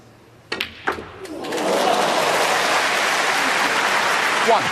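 Crowd at a snooker match breaking into sustained applause after a few sharp opening claps, loud and steady through to the end, with no talk over it.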